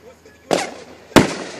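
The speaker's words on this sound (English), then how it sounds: "Fireworks." Two sharp firework bangs go off about half a second apart at a 4th of July fireworks show, each leaving a short crackling tail against a quiet outdoor background.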